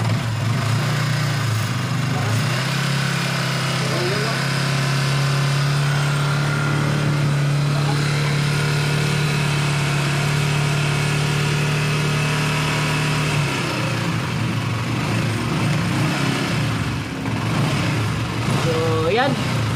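A Yamaha Sniper 155 motorcycle engine fitted with a racing water pump runs close by in a steady, even drone for the whole stretch, with voices talking over it.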